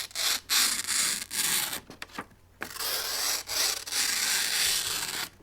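A sharp Enzo Birk 75 folding knife with an S30V Scandi-ground blade slowly slicing thin strips, drawn-out close rasping cuts one after another with brief pauses between strokes, no talking.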